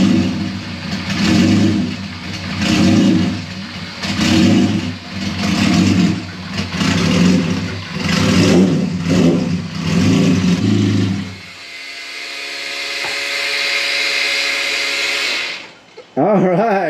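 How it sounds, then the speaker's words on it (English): An engine fires up for the first time after a bottom end rebuild and revs loudly close by in a steady run of rising and falling surges, then settles into a smoother drone before cutting off. "first start on the new bottom end refresh"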